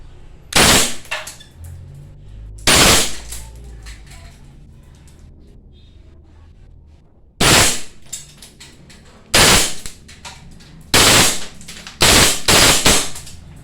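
An airsoft Glock 18 gas pistol, double bell model 774C, fires loud, close full-auto bursts, a rapid rattling stream of shots in several short separate strings with quiet gaps and faint mechanical clicks between them.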